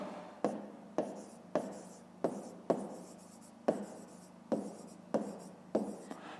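Pen writing by hand in a notebook, a series of about a dozen sharp taps and short scratchy strokes in an uneven rhythm, close and fairly quiet.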